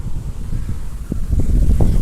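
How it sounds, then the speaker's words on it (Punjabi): Gusty pre-rain wind buffeting the microphone with low rumbling bursts that grow stronger toward the end, loud and close. "ਦੇਖੋ ਇਨੀ ਘੈਂਟ ਹਵਾ ਚੱਲ ਰਹੀ ਆ"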